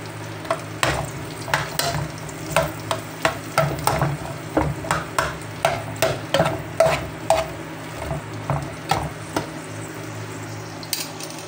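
Camel meat and onions being stir-fried for salt adobo, with a utensil scraping and tapping the pan in a steady rhythm of repeated clanks over a continuous low sizzle.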